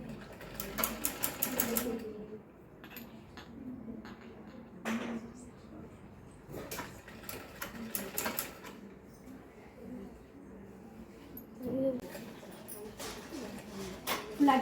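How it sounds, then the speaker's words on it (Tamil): A sewing machine stitching the sleeve of a blouse, running in short rattling bursts with pauses between them as the fabric is guided slowly, close by, with a voice talking quietly at times. "கொஞ்சம் கொஞ்சமாக அடிக்கணும் ஸ்லீவ் அடிக்கும் போது"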